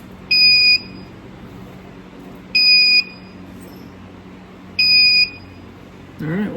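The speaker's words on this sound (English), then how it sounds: "There's our alarm." An electronic alarm from a solar power setup beeps in three short bursts about two seconds apart, loud and shrill against a low background hum.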